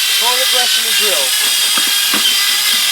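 A steady, loud power-drill whir with hissy broadband noise as a toilet brush spun by the drill peels potatoes, the motor running continuously throughout, with brief voice-like tones early on.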